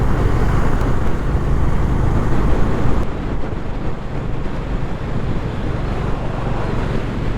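A 2025 Honda Hness motorcycle cruising at 80–90 km/h on a highway, heard as loud, constant wind roar and buffeting across the microphone, with the tone shifting slightly partway through; no speech.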